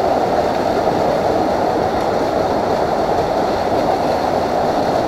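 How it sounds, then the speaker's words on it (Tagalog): A waterfall swollen by recent rain pours with a strong flow, making a dense, steady roar that stays loud and unbroken from start to finish. "Medyo malakas ang tubig ngayon, guys, kasi galing sa ulan, eh."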